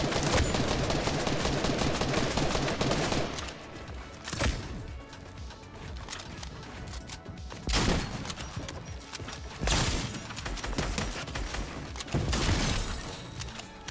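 Rapid gunfire bursts crack through a shooter video game, with dense automatic volleys at the start followed by scattered single shots and shorter bursts, loud and close, without talk.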